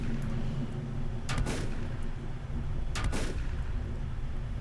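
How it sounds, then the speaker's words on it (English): Gunfire striking the player in the survival game Volcanoids: two short bursts of impacts sit over a steady game background hum, each burst lasting under a second. "you can already hear I'm being shot at"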